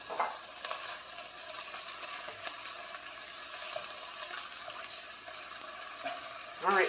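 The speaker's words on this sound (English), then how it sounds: "Time to brown the meat." Ground meat browning in a pan for spaghetti sizzles steadily and softly, a continuous frying hiss with occasional scraping and stirring, fairly quiet and close.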